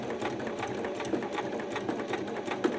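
Sewing machine stitching fabric for a small drawstring pouch, running in a steady, fast mechanical chatter at moderate volume throughout, close up and alone.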